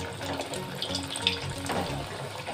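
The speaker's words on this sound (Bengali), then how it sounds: "কচুরিগুলো আমরা আস্তে আস্তে ভেজে নেব।" Kachori sizzle in hot oil in a wok, a steady, dense crackle and hiss of frying that holds throughout with small bubbling pops.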